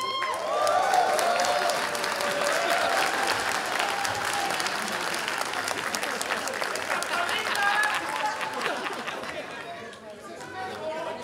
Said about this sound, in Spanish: Reciban con un fuerte aplauso a El Chaparro